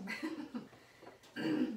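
A few throaty coughing bursts, close and moderately loud, with short pauses between them and no talking.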